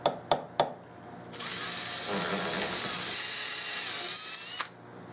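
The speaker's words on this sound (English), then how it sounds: "that's a very sharp drill bit" A very sharp drill bit bores into end grain of Turkish walnut for a gun stock: a few sharp taps, then a steady high whine of the drill running for about three seconds before stopping.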